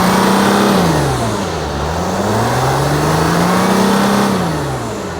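A Mercedes Sprinter van's engine revs up and settles back twice in a smooth, rising and falling rhythm, loud and close in a repair shop, with no voices over it.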